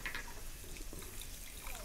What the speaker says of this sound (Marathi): तर आता थोडंसं पाणी ओतलं आहे अगोदर